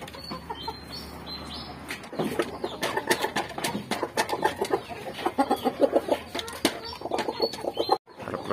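Chickens and a rooster at morning feeding time, clucking and fluttering their wings in a busy, continuous mix of calls that runs close and steady throughout, with no one talking.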